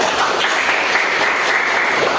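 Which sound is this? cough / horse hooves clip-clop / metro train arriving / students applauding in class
students applauding in class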